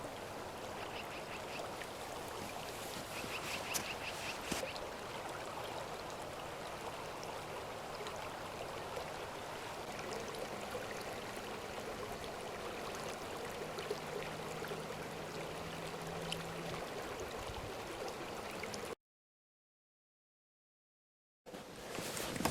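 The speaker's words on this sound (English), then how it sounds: "Just like this river." A river flows as a steady, soft broadband rush of water, constant and fairly distant, cutting to a brief silence near the end before resuming.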